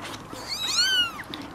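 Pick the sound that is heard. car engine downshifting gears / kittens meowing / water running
kittens meowing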